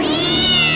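A single short cartoon cat meow, loud and close, with a rising then falling tone lasting under a second. It is heard on its own.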